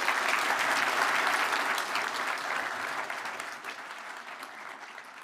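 An audience at a digital business summit applauds, a dense wash of many hands clapping that starts full and gradually thins and softens toward the end.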